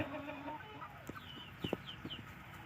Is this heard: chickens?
yes